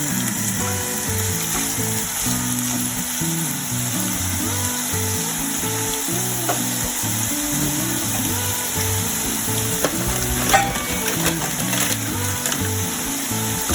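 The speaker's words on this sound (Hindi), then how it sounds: "यहाँ मैंने पैन में 2 टेबलस्पून ऑयल लिया है, और अब मैं ये कैरेट इसके अंदर डाल दूंगी।" Carrots fry in two tablespoons of oil in a pan for Kabuli pulao. A constant bright sizzling hiss continues throughout beneath steady background music, with an occasional faint clink.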